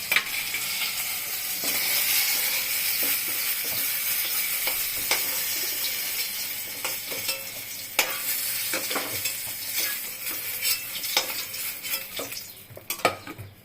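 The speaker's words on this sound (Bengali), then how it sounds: "ওই তেলে আমি এই মিষ্টি কুমড়োটা ভেজে নিব।" Pumpkin pieces frying in oil in a home kitchen, a continuous soft sizzle broken by frequent spatula scrapes and metallic taps against the pan.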